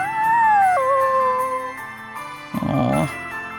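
A small puppy in the video game Bravely Default 2 gives a drawn-out, wavering howl, clear and prominent over a sustained musical score, followed by a shorter whimpering yip near the end.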